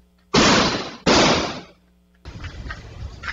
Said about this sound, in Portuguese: Muito barulho de tiros.